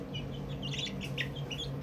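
Small chickens chirping and peeping in brief high bursts over a steady low background hum, fairly close and moderately quiet, with no talk.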